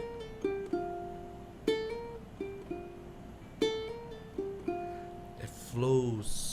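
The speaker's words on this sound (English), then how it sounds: "hammer and pull off with the index finger on the left hand" Ukulele notes ring out one by one in a slow phrase, each pluck followed by quick hammer-on and pull-off slurs, played close and quiet before a brief louder noise at the end.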